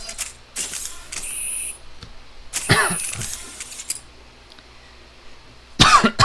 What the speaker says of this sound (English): Sorry, persistent cough.